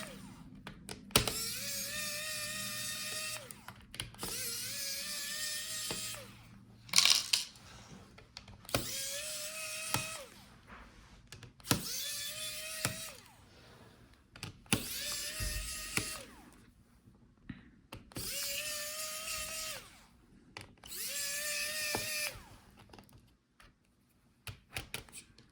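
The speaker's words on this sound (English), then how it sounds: "So unscrew all the screws." Small screwdriver or electric driver backing out the heatsink screws on a Razer Blade 14 QHD 2022 laptop, heard as seven or eight separate whirring bursts of a few seconds each, close up, with no talking.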